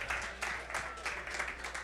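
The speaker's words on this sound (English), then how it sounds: "Round of applause, everybody." Audience members at a creator conference event clap in a short, even wash of applause, moderately distant and continuous with no break.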